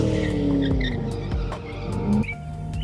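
A 2006 Ford Mustang S197 drift car slides with a loud, continuous engine roar and rising tire squeal, the pitch sweeping up and down as it drifts, close and steady throughout.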